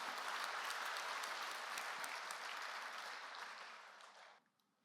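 A church congregation at a Sunday worship service claps to welcome a family, a full, even burst of applause that holds steady and then tapers off to quiet.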